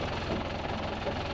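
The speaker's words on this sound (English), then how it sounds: "So the engine's not turning over particularly hard." A boat engine idles low at about 500 revs, a steady, even rumble close by with no change in pace.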